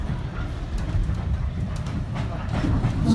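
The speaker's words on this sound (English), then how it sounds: "Are you enjoying the pretend steam train?" A diesel train stands in for a steam service on a scenic heritage line, giving a steady low rumble of rolling wagons with faint clickety-clack that builds slightly toward the end, heard close and alone.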